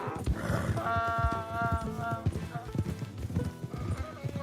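A donkey's hooves clip-clop in a steady walking rhythm in the Western video game Red Dead Redemption 2, close and clear, while a person talks over the sound.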